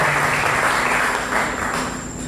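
Applause welcoming a former president who has just arrived at a medical association conference on diabetes care, a steady broadband patter of many hands filling the hall for a couple of seconds with no talk over it.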